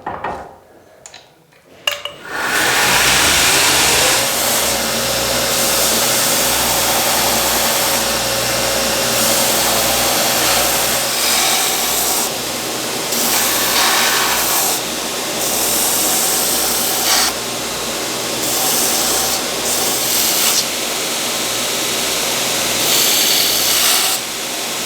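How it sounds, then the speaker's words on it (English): A grinder perimeter-grinds the edges of handmade kitchen knife blanks, starting with a clack and then keeping up a loud, continuous, close whine with slight shifts in pitch as the metal is worked, with no speech. "I'm gonna take my time, perimeter grind these"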